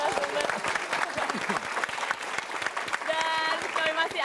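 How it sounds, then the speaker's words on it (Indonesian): Audience applause at an Indonesian televised political talk show: dense, sustained clapping from a studio crowd fills the whole stretch at steady volume, with some voices and a short tonal sound near the end. "Tepuk tangan sekali lagi untuk seluruh narasumber"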